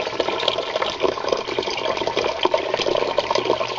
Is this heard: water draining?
yes